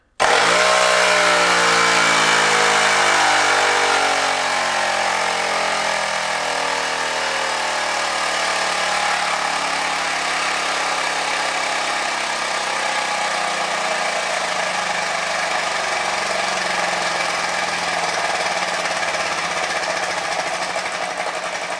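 Air-powered model plane engine running on 40 psi compressed air, a loud continuous high-revving buzz that starts abruptly and holds steady, settling slightly in pitch as it runs alone without talk.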